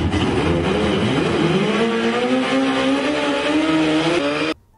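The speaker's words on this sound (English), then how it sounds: "The Ghost Rider's Turbo Busa is estimated to produce about 500 horsepower" A turbocharged Suzuki Hayabusa of roughly 500 horsepower accelerates hard, its engine note climbing steadily in pitch through a loud, close, continuous roar that cuts off abruptly at the end.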